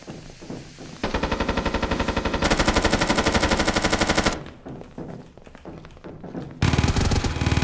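Rapid automatic gunfire in a shooter video game, loud sustained bursts with brief pauses between volleys, close and dense, with no talking over it.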